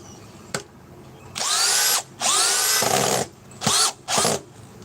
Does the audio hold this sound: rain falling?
no